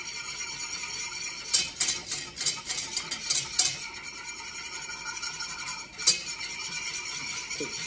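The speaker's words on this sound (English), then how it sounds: "stirring it." Enchilada sauce thickening in a pan as a utensil stirs it: repeated close scraping and clinking strokes over a constant bubbling sizzle, with no voices.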